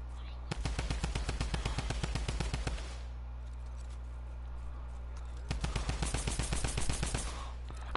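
Two long bursts of rapid automatic gunfire in a video game, loud and close, separated by a few seconds of near silence.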